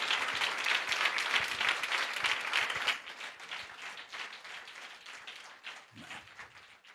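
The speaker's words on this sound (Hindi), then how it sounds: "ताली बजाकर प्रभु को धन्यवाद दीजिए।" A church congregation at a morning spiritual festival session claps together in thanks to the Lord, a loud, dense wash of applause that thins and fades toward the end, with faint voices underneath.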